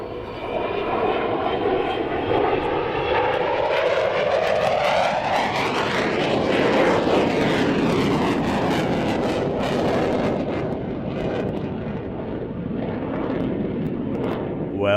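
Aircraft engines roar loudly and steadily at Duxford airfield, swelling as a plane passes close by along the runway, with a commentator's voice partly over the noise.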